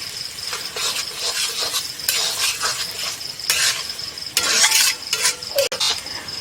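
Maggi noodles fry in a pan with a soft sizzle while a utensil stirs them in repeated scraping bursts, ending with a brief clink.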